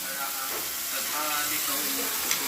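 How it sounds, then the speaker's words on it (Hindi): Small potatoes dropped into hot oil in a home kitchen pan, giving a steady sizzling hiss that stays at moderate level throughout, with no break. "अब मम्मी डालेगी छोटे छोटे आलू"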